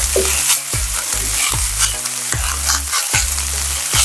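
Ground beef and onions sizzle in a frying pan while a utensil stirs them, giving regular scraping strokes roughly every three-quarters of a second, close and loud, no talk.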